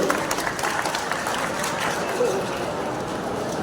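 A crowd at a political party road show claps loudly and continuously, dense applause with some background voices throughout.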